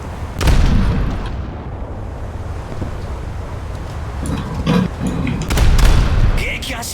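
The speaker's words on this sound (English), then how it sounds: "the forward half of his ship exploded when I shot him in the ass" Explosions and booming gunfire from a warship battle in a naval video game, a cruiser's forward half blowing up, come as heavy deep blasts and rumbles that swell at the start and again near the end, loud and close.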